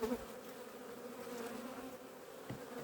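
Honey bees crawl and buzz over honeycomb holding crystallised honey at an apiary hive, a steady close insect hum running throughout with a faint thump near the end.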